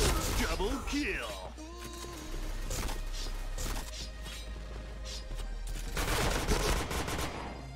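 Rapid gunfire bursts and impacts from a first-person shooter video game, dense crackling shots and fusillades layered with game effects, heard up close under overlapping talk from players.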